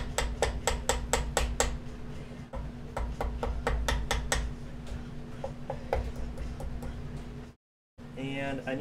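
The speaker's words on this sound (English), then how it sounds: "I have a Japanese jeweler's hammer here." Japanese jeweler's hammer tapping metal, a series of sharp bright ticks in quick bursts, close and crisp, with pauses and a brief silent gap near the end.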